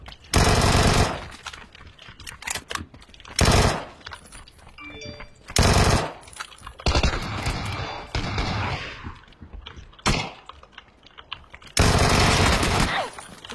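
Bursts of machine gun fire from a shooter video game, several loud rapid volleys separated by quieter gaps of background game sound.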